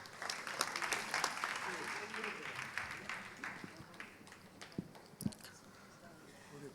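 A crowd at a Tamil literary gathering claps in applause for the presiding address, a dense patter of hands that gradually thins out, with a few louder individual claps near the end.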